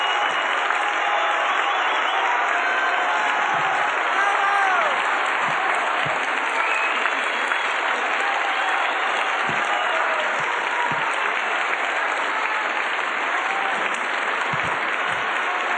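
Sustained applause from a large outdoor audience at a 1983 Opera in the Park concert in San Francisco for Welsh soprano Margaret Price, a steady, loud wash of clapping that fills the whole stretch without letting up.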